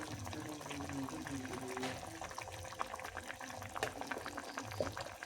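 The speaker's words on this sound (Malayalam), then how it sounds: "ചട്ടി ചൂടായി, എണ്ണ ഒഴിച്ച് കൊടുക്കാം കേട്ടോ" Cooking oil poured into a hot pan ahead of frying fish, a steady liquid pour and bubbling hiss with scattered clicks and light clatter, continuous and moderately close with no talk.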